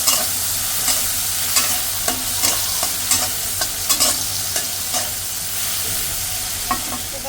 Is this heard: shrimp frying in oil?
yes